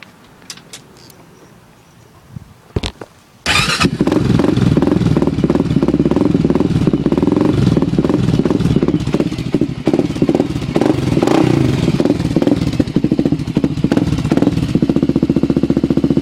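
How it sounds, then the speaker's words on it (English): Honda 400EX ATV fitted with a DG exhaust pipe: a few clicks and a cranking attempt, then the engine fires and settles into a loud, close, throbbing idle with a rapid choppy exhaust beat. "let me show you what a 400EX with a DG pipe sounds like."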